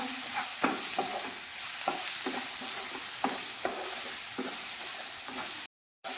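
Red chili powder and turmeric are stirred in a hot pan, with a steady sizzle under repeated scraping strokes of a spoon at an even rhythm, close and clear with no voices.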